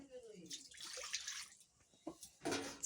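Water is poured into a kadhai, a wok, to wash it out after cooking greens. Short, faint bursts of pouring and splashing come in separate spurts, with soft talking nearby.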